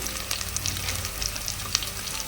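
Green chillies, onion and ginger-garlic paste sizzle steadily in a pan, a constant close frying hiss with faint crackles and light pops throughout, no talking.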